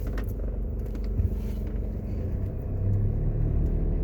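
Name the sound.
car driving out of a plaza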